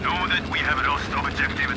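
An airplane flies close behind the player in the World War II shooter Battlefield 5 on the Iwo Jima map, its engine droning loudly with rising and falling pitch sweeps throughout.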